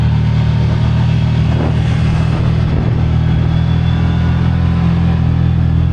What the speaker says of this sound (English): Today we're in the 2025 ZFORCE 950 Sport 4.